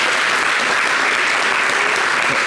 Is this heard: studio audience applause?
yes